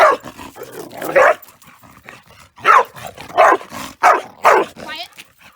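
A service dog barks and yips in short bursts close by, with quieter whimpering sounds between the barks.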